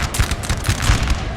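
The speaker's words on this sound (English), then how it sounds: "They should give off a volley now" Rifle volley from British 95th Rifles infantry in Napoleon Total War, a dense crackle of overlapping musket shots rolling continuously through a short battlefield burst.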